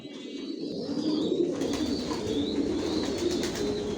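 Racing pigeons in a loft coo steadily, a dense overlapping murmur of soft throaty calls with occasional faint chirps, continuous and fairly close throughout.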